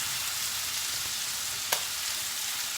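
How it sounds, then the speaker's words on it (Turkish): Broken frozen peppers fry in oil for Turkish sac kavurma, giving a steady close sizzle with a brief clink of a utensil partway through and no talk. "Ortada yağında biberlerimi az kavuruyorum"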